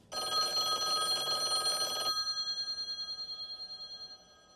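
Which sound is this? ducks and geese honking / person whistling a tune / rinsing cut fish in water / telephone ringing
telephone ringing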